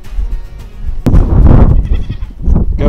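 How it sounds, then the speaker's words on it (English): Several loud goats bleat close by, overlapping cries with short pauses between calls. "Goats aren't happy."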